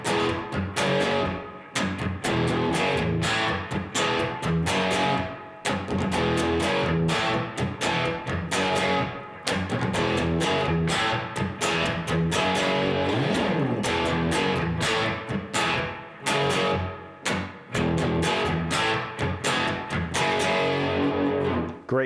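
Distorted electric guitar grinds out a power chord riff with muted chika strums in the gaps between chords, a driving, steady rhythm, loud and close, played alone with no talking.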